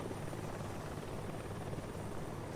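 Video game helicopter: a steady, dense whirring rotor drone at even loudness throughout, with no pauses and no voices over it.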